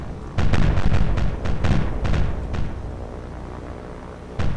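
Bombs burst near a ship in the War on the Sea naval game: a rapid cluster of heavy booming explosions close together, then a fading rumble and one final distant blast, with no talking.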